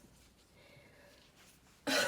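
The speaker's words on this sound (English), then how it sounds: "I keep coughing." A single loud cough bursts out near the end after a stretch of quiet room tone, close to the microphone.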